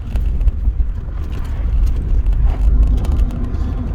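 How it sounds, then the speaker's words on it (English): Low, steady rumble of a car engine warming up at idle, with faint uneven knocks and rattles over the continuous drone. "Got to warm the engine up first."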